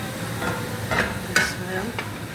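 Onions fry to golden brown in a pan, a steady sizzle broken by several close scraping stir strokes, with no voices.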